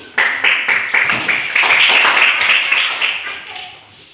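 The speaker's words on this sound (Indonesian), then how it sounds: "Kita tepuk tangan dulu dari sama kelompok 1 dulu." Group of students in a classroom clapping together for a presenting group, a dense burst of many hands with a steady rhythmic pulse, fairly close and loud, fading out near the end.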